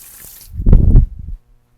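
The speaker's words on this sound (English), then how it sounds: "One thing you can do is put a little water on it." A short splash and trickle of water poured onto a wooden box lid during woodworking, lasting about a second before stopping abruptly, close and fairly loud.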